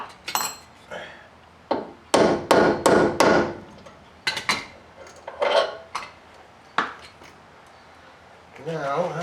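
A hammer taps up a door hinge pin on a GMC Squarebody truck, giving sharp metallic strikes in irregular bursts, several quick blows in a row, close and loud, with a short voice at the end.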